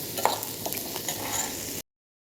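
A pan being stirred over heat while food fries for bread egg puffs, steady scraping and soft sizzling for about two seconds, then sudden silence.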